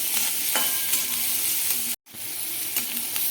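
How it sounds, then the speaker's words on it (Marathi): Onion sizzles in hot oil with cumin and mustard seeds in a pan, a steady close frying hiss with stirring scrapes, briefly cut by a short gap before the sizzle resumes. "अगदी दोन ते तीन मिनटामध्ये आपला कांदा छानपैकी तेलामध्ये फ्राय होईल"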